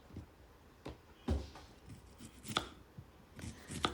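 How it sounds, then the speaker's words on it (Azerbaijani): A knife chops onion into rings on a board while making a tomato salad, giving irregular, fairly close taps and thuds spaced through the moment with no talking. "Soğanı halqa formasında doğrayıram."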